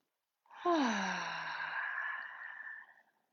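One long, deep exhale during gentle chair yoga, a breathy voiced sigh lasting about two and a half seconds, close and alone in a quiet room.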